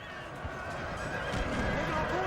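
Cavalry horses in a Napoleon Total War battle: lancers chasing French hussars, heard as a steady mass of hooves and whinnies from many horses, with voices mixed into the din.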